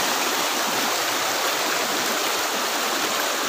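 A stream flows in a steady, close, full rushing wash of water, constant and unbroken, with no voices.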